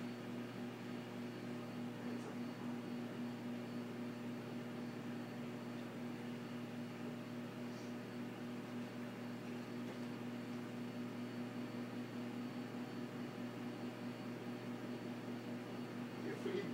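A microwave oven hums steadily with an egg heating inside, a constant low drone with a faint tonal whine and no other sounds.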